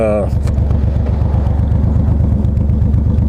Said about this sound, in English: right off of idle, if you're in a parking lot or something real slow, the throttle is so choppy